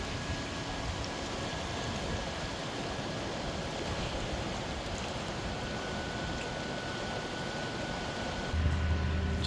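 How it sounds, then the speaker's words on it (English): A swollen, high-running river in Monongahela National Forest, West Virginia, gives a steady, dense rush of flowing water that holds an even level throughout and swells slightly at the very end. "Oh, the river is up. Look at that."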